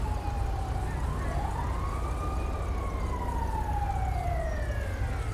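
In GTA 5 on a highway, an ambulance siren wails in a rising and falling sweep over a constant low engine rumble, moderately loud and continuous throughout.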